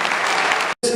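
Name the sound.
audience applause for the parks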